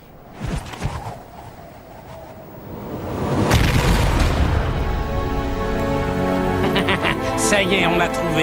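A cartoon explosion blasts apart a rock, starting with a few thumps and then a sudden loud boom at about three and a half seconds. Heavy sustained rumbling follows, with bright crackles and sparkling effects layered over the top.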